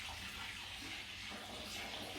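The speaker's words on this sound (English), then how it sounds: "Put the rest of that water in there." Water pours into a home-brew vessel holding sugar, a short, steady, faint rushing stream with no voices.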